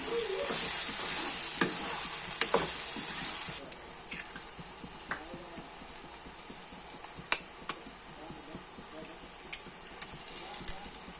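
An onion egg curry is stirred in a frying pan, giving a soft sizzle with scattered clicks and taps of the spoon against the pan. The sizzle is faint, and speech may be heard alongside it.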